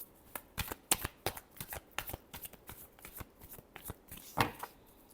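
Tarot cards shuffled by hand in quick, close bursts of crisp riffling and slapping, with short pauses between passes and no voices.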